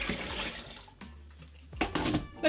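Warm honey water poured into a lemon drop braggot, a dry-hopped honey beer brew: a liquid splash and gurgle at the start, a lull, then renewed splashing pours near the end, close and fairly quiet.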